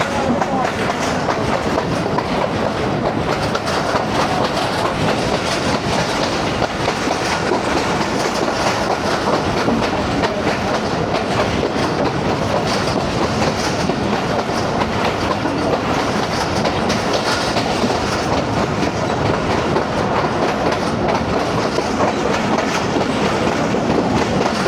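The 9UP Allama Iqbal Express runs from Lahore to Narowal past green fields in rain, a steady, loud, unbroken rumble of wheels on track heard from inside, with no voices.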